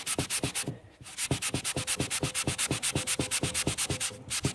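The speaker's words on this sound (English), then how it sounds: "on this little scuff, I've got a piece of a magic eraser" Piece of magic eraser rubbing a small scuff on a vintage suitcase, fast rhythmic back-and-forth rubbing strokes with one brief pause, close and steady with no voices.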